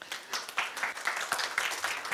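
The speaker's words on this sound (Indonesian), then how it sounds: "Kalian beri tepukan tangan" Audience applause at a seminar session, a fairly quiet, steady patter of many hands clapping in a room.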